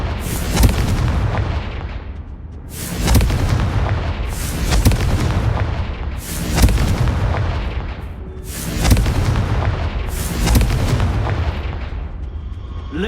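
Confringo blasting spell explosions in the video game Hogwarts Legacy, six loud booming blasts at steady intervals of about two seconds, each with a sharp crack and a rumbling decay over continuous low background noise.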